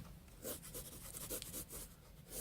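Pen drawing on paper while shading a black-and-white sketch of fire: quiet, close scratchy strokes in a quick repeating rhythm of short bursts, with no voices.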